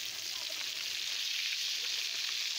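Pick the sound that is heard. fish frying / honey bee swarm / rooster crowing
fish frying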